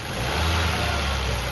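A car engine with a noise somewhere in the motor revs up steadily, a loud close continuous roar that holds through the stretch, with no talk.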